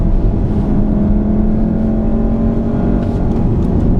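A 2015 VW Golf R with dual-clutch gearbox accelerating on a track, a loud, steady engine drone with a rising tone, heard close and continuous without talk.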